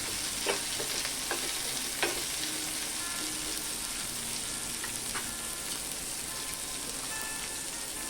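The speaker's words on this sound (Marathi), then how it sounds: "कांदा, हे आता आपण परतून घेऊया।" Chopped onion with red chili sautéing in a pan for shahi matar paneer: a steady, even sizzle runs throughout, broken by a few sharp spatula scrapes near the start.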